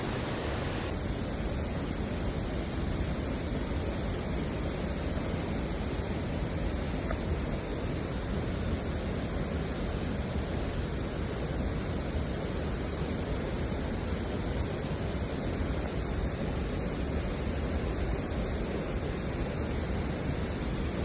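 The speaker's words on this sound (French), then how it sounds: "on prend ce petit chemin pour s'approcher au plus près de la cascade" A steady, roaring rush of falling water from a waterfall at Lake Sebu's seven falls in the Philippines fills the whole stretch, unchanging and close, with no voices.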